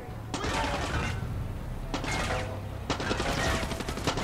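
Enemy gunfire in the video game Far Cry 6 comes in three loud bursts of rapid shots, each lasting about a second, with brief lulls between them and a constant low rumble of battle underneath.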